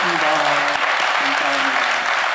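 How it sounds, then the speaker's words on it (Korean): A Korean Presbyterian congregation in Calgary applauds loudly for newly ordained elders, a thick, sustained burst of many clapping hands, with a voice speaking through the applause. "우리 큰 박수로 격려하겠습니다."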